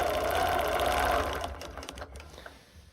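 A sewing machine stitching fabric runs in a steady, close mechanical whir for over a second, then slows and stops, followed by a few quiet clicks and handling sounds.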